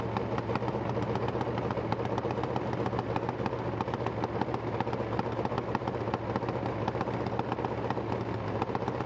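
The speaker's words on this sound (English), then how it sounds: "Cackle of that nitro, it is incredible." A nitro-burning 175-cubic-inch Top Fuel drag racing engine with a PRP build, cackling at idle in a steady, loud, rapid popping rumble that runs unbroken throughout.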